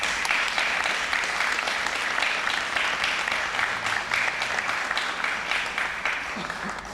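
Audience applause at a book presentation for the book Ignominias Paralelas, dense sustained clapping from a roomful of people with faint voices mixed in, easing slightly toward the end.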